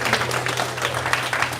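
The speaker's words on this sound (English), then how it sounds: "thanks, Hansrupa Prabhu for this huge round of applause" A brief burst of steady applause from an audience at an ISKCON NYC temple gathering, loud and dense and with no pauses, over a low hum.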